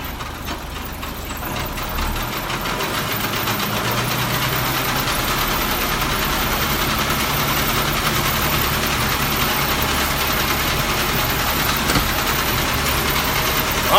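Round baler working high-moisture alfalfa in the field, a loud, steady heavy engine drone with mechanical rumble holding constant and close throughout, with no talking.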